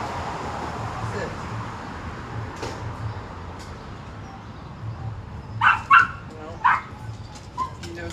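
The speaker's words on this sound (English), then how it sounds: "No barking." A pet dog at home, held back by its owner, gives a few short sharp barks or yips near the end, fairly close, after quiet background and faint movement.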